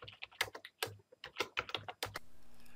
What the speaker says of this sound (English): It wants to know my password, which I will type in.